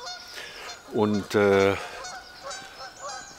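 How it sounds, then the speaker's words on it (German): Geese honk in the distance as they take off, two strong harmonic calls in quick succession followed by fainter honks, with a brief spoken word from a nearby man. "da hinten, da heben gerade ein paar Gänse ab."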